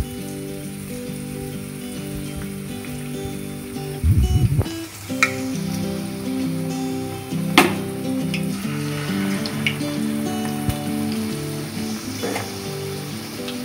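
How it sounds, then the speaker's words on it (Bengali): Coated chicken pieces fry in hot oil with a constant crackling sizzle, a loud burst as pieces drop in early on, then occasional clinks and shifts of the pan, close and with no talk. "এবার চিকেনটা ছেড়ে দিচ্ছি গরম তেলে।"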